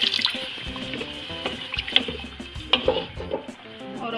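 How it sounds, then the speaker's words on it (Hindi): Water splashes and trickles into a pot of lentils and meat in uneven bursts, with light clinks and drips over a few seconds. "इसमें इतना पानी डालना है कि ये दाल अच्छी तरह गल जाए।"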